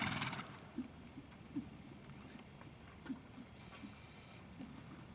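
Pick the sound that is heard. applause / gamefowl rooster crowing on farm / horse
horse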